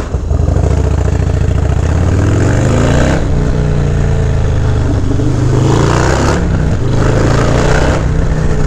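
A motorcycle rides past on a Brooklyn street, its engine loud and close, with the pitch rising and falling as it accelerates and moves by.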